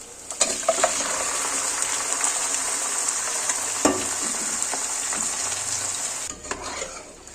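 Pieces of chicken sizzle loudly and evenly in a hot pan as they are stirred, a bright, hissing fry with occasional scrapes and knocks of the spoon before the sizzle briefly dips near the end.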